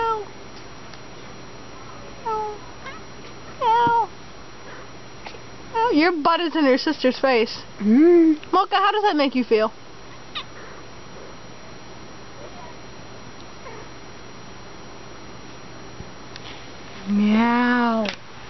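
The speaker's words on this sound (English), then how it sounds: "And after just recording 5 minutes of pure kittens" Several kittens give short, high meows at intervals, a few close together and one longer cry near the end, while someone talks to them between calls.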